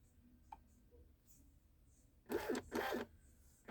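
Thermal label printer feeding and printing a label, two short loud whirring bursts close by after a quiet stretch with faint clicks.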